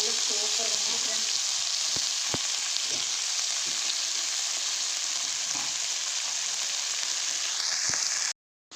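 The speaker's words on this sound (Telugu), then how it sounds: "ఇప్పుడు మనం కడిగి పెట్టుకున్న మెంతు కూర వేసుకుందాం ఫ్రెండ్స్." Washed fenugreek leaves frying in a pan, a steady, dense sizzle with faint crackles and a few soft clicks of stirring, close and continuous before cutting off abruptly near the end.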